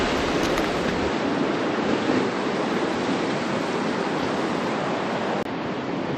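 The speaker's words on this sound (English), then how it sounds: "I'm now here at the Rappahannock River." Rappahannock River water rushing along the Heritage Trail, a steady broad roar of flowing water mixed with wind buffeting the microphone, continuous and fairly loud with no voices.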